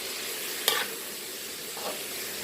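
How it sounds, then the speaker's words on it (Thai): Thai Kajorn flowers stir-fry in oil in a pan, with a soft continuous sizzling hiss and one clear spatula scrape, then fainter stirring. "ผัด เหมือน ผัดผักผัดไข่บ้านเรานี่แหละค่ะผัดง่ายๆเลย"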